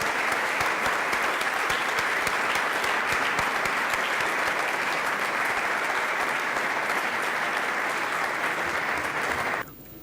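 Sustained audience applause at a municipal commemorative speech, a dense, even roar of many hands clapping that continues strongly for several seconds and then cuts off abruptly.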